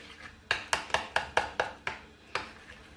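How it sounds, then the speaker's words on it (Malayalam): A spoon stirring achappam batter with sesame seeds in a bowl, making eight or so sharp, close knocks against the bowl's sides in a quick, slightly uneven rhythm. "ഇത് നന്നായിട്ടൊന്ന് ഇളക്കാം."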